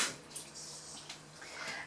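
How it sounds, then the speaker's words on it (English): Tap water running into a cleaning spray bottle during a toilet clean, a steady close splashing fill that rises and falls over a couple of seconds with no talk. "And you literally put water in it"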